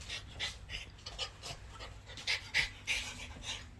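A dog pants rapidly and rhythmically close by, the quick airy breaths fairly soft and steady with no talking.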